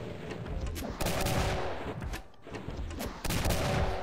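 Shotgun blasts in the Doom mod The Golden Souls fire in quick bursts, with several sharp booms and rapid volleys of game gunfire and explosions hitting at irregular intervals, close and loud.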